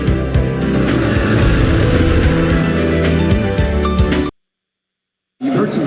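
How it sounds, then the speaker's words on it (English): Race cars on the South Boston Speedway short track during an SRX series race, a loud continuous roar of engines and tires for about four seconds, then a sudden cut to silence before a brief return. "You've heard some great sounding cars."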